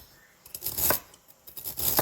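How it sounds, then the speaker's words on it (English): A kitchen knife dices celery finely on a cutting board for a tuna noodle casserole, giving two quick bursts of crisp, rapid chopping strokes close up, with a short pause between them. "however you like your celery. Dice it like that."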